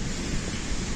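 Stormy sea at Arkhipo-Osipovka, waves crashing in a dense, continuous roar of surf that fills the whole short stretch with no voices.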